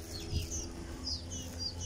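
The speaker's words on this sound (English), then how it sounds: "Yes, it's birds." Birds sing outdoors in a small hometown setting, several faint high chirps and short whistled phrases repeating at a distance over a low background hum of traffic.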